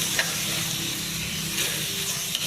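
Quail egg dish being stirred in a pan after salt is added, a soft steady sizzle with faint scraping, quiet and close.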